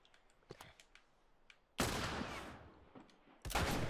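Gunfire in The Last of Us Remastered: scattered faint shots, then a loud sustained burst of fire and a second loud burst near the end, with no talk.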